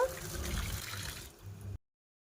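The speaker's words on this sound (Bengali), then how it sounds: "আমি এখন কেটে ধুয়ে পরিষ্কার করে নেব, ভালো করে ধুয়ে নেব" Tap water runs steadily close by as chicken legs are rinsed in a sink, a continuous splashing flow that cuts off abruptly, leaving silence.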